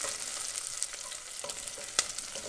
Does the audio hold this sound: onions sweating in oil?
yes